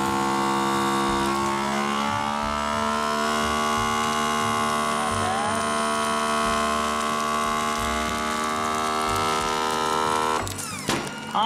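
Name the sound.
vacuum sealer sucking air out of a bag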